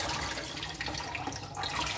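Orchids being watered give a steady splashing, pouring rush of water that runs throughout, close and fairly loud, with no talk over it.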